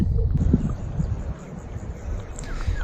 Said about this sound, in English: There's a little bit more wind now, which should mask the presentation.